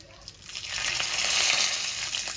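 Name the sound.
mustard seeds spluttering in hot oil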